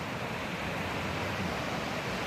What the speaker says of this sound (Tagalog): So, pakinggan yung alon, pakinggan natin.